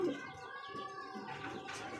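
Soft, low pigeon coos sound close by over a couple of seconds at a pigeon farm, with a faint murmuring voice alongside.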